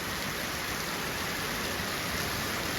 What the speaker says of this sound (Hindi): इतनी बारिश, ऊपर से बिजली बहुत डेंजर से घूम घूम कर रहा है